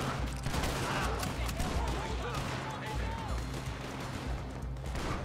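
Gunfire in the Western shooter Red Dead Online during a bank robbery, a busy continuous barrage of shots and impacts layered throughout, with voices talking over the fighting.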